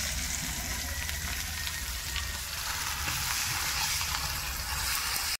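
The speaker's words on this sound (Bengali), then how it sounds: "আর এখন দেবো কুচনো পেঁয়াজ" Chopped onion hits hot oil left from frying fish, sending up a dense, even sizzle that hisses steadily up close and stays quiet in level until a sudden cut at the end.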